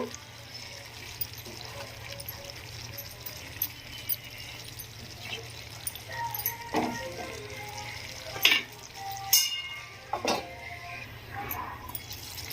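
Cauliflower tomato curry with coriander being stirred in a pan, a steady low sizzle under scattered spoon scrapes and clinks that grow sharper toward the middle.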